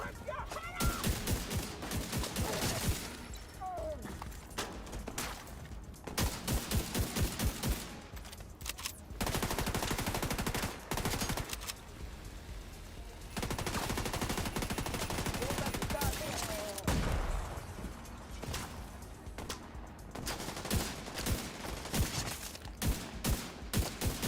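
Gunfire in the video game The Division 2: loud bursts of rapid automatic fire, alternating with brief quieter gaps, with a voice talking at times between volleys.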